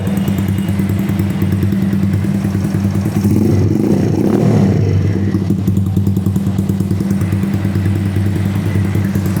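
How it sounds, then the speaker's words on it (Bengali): A modified 125cc Dayun motorcycle engine idles steadily and close, a low throbbing exhaust rumble with a brief swell in revs midway, no voices. "ওয়ান টোয়েন্টি ফাইভ বাইকগুলোতে এই সাউন্ড এই এই এক্সস্টটা অনেক ভালো সাউন্ড আছে"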